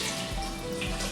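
Water runs and splashes into a cooking pot holding carrots for Japanese curry, a steady close pour with no voices.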